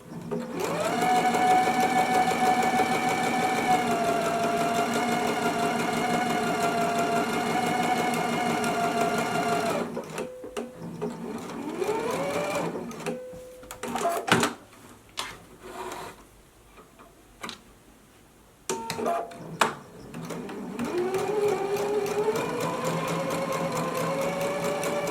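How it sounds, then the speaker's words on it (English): A sewing machine runs steadily, stay stitching along the front neck edge of a holiday dress at a quarter-inch seam allowance, its whirring hum loud and continuous, then halting in short bursts and pauses before resuming a long run. "So let's go ahead and do our stay stitching for our front piece now."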